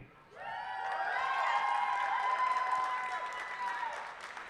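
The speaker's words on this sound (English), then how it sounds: "I would love to give a big round of applause from you guys to Philip Lickley" Indoor audience at a student union election results event clapping in a sustained round of applause, mixed with crowd voices and cheering, swelling then slowly tapering.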